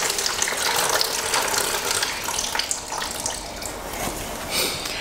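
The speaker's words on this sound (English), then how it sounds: "take your rock wool and soak it for 20 minutes and then dump out any excess water" Excess water poured out of soaked rock wool into a bucket on the floor, a steady splashing gush that lasts throughout, fairly loud and close.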